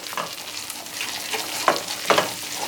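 Butter sauce with mint and red pepper stirred in a hot pan, a soft bubbling sizzle with a couple of louder scraping strokes toward the end.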